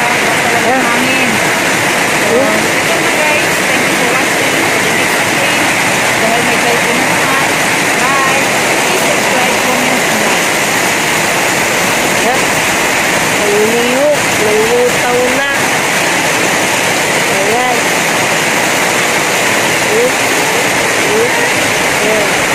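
Floodwater rushes outside a house in the Philippines during a typhoon, a loud, constant torrent-like roar close by, with some voices faintly audible under the flow.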